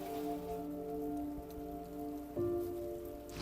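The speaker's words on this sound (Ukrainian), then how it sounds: "гучно та йде дощ" Rain falls on a street in Pokrovsk as a soft, steady patter throughout, alongside a constant droning hum.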